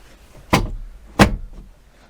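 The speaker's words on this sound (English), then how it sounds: "I'm just going to take that handbrake off" Handbrake being released on an Invacar, two short, sharp mechanical clunks close by, roughly seven tenths of a second apart, with quiet in between.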